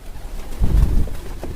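A trained pigeon gives a deep, throaty coo, one short rolling call in the middle, close and clear against a quiet background.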